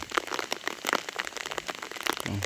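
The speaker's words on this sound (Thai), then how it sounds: "ฝนตกมาแล้วพี่น้อง" Rain falls in a rural rice-farming area, with a dense patter and crackle of drops striking surfaces nearby, irregular and fairly loud throughout, no speech.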